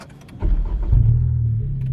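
A 10th-generation Honda Civic engine starts up after a rear motor mount install, a sudden low rumble and vibration that settles into a steady idle hum, close and fairly loud.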